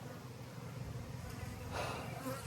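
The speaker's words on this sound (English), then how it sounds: "We got a lot of bees." Honey bees swarming on a hive frame, a soft continuous buzzing hum close by, faint and steady, with a brief brighter swell near the end.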